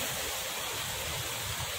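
Floodwater rushing through a village river after heavy rain, a loud, steady, broadband roar filling the scene without a break.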